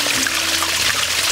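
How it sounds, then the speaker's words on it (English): A small natural waterfall in Coamo, Puerto Rico gives off a steady, close, broadband rush of splashing water that stays even and unbroken, with no voices over it. "little natural waterfall"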